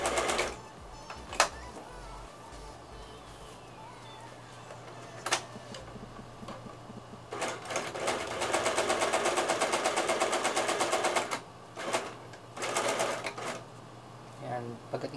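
A sewing machine stitches a souvenir pillow and backstitches to lock the thread, running in bursts of rapid, steady clatter. A person talks between the runs of stitching.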